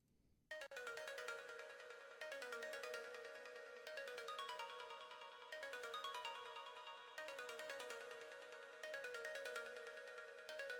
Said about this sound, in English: So yeah, really cool like ambient pluck layer.